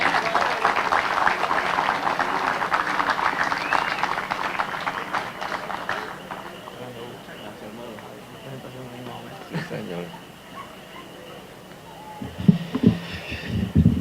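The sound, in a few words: audience applause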